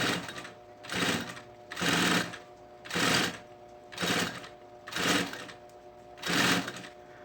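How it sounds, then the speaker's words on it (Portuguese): A sewing machine stitches a seam on a backpack panel in six even bursts of roughly half a second each, with short pauses between them, close and moderately loud, with no voices. "vou passar uma costura, tenta vir com a costura mais na borda"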